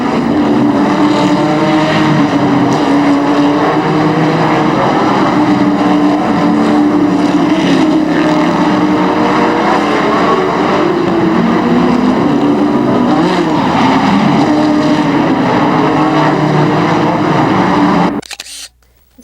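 Stock cars race at Raceway Park in Blue Island, a loud, continuous roar of engines with droning, shifting pitch as cars pass, close and sustained before cutting off abruptly at the end.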